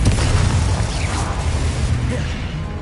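Confringo blasting spell from a Harry Potter video game, a continuous heavy rumbling burst with dense low boom and crackling debris filling the whole moment, loud and steady throughout.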